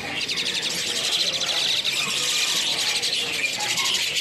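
Several white starlings (jalak putih) calling at a bird market stall, a dense continuous chatter of rapid high chirps and squeaky notes, steady and fairly close, with faint talk in the background.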